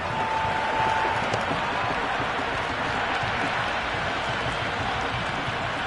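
A large cricket stadium crowd roars and applauds steadily throughout, a dense wash of cheering and clapping from a big open venue with no pause.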